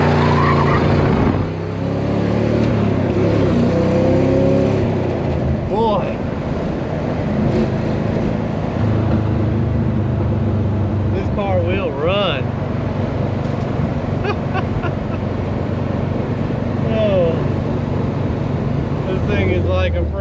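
A 1970 Chevrolet Nova Super Sport on the road after a front end rebuild, its engine droning loud and steady with rising and falling revs while someone talks over it.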